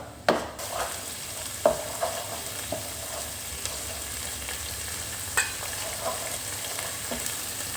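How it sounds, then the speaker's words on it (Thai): Thai curry paste and shrimp paste being stirred into coconut milk that has split and turned oily in a pot, a soft bubbling sizzle with light scraping knocks of the stirring spoon. "ใส่ พริกแกงลงไปครับกะปิลงไปครับ คลุกเคล้าให้เข้ากันครับ"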